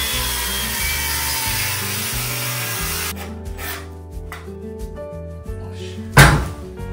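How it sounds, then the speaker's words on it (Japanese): Old wooden house beam being sawn in a traditional house renovation, with rasping saw strokes and a loud knock or thud near the end over a steady background hum. "この辺で一回切ろうかなと思ったりします。"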